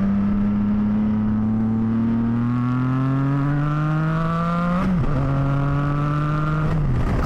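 A Triumph Tiger 660 motorcycle pulls away from a green light, its engine note rising steadily through one gear, then a brief dip at the shift before climbing again and easing off.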